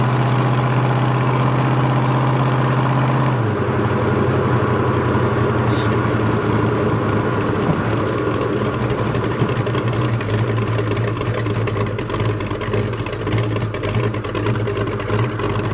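A 1973 Dodge Charger Rallye with a crate 408 V8 and 727 three-speed automatic idling loud and close, a steady low rumble that shifts pitch slightly after a few seconds and holds throughout.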